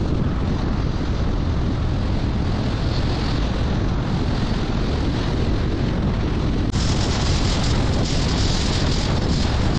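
Strong wind roars past the open window of a car moving along a mountain road from Kabul to Bamyan in Afghanistan, a loud, continuous buffeting rush that grows harsher partway through, with no talking.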